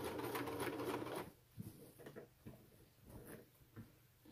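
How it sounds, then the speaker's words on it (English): Sewing machine stitching cording onto a pillow cover, running in a fast steady whirring chatter for a moment, then stopping and giving way to soft handling taps and rustles of fabric. "so we'll just sew right on along"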